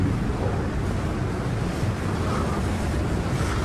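Sea waves crash and wash beside a seaside bungalow, a loud continuous roar of surf with wind buffeting the microphone throughout.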